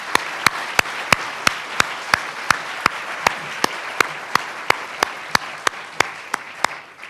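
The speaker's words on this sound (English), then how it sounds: "Let's give this group one more loud round of applause." An audience at an elementary school awards ceremony claps in a sharp, even rhythm, each clap ringing out distinctly in a steady series of about twenty beats that fades slightly at the end.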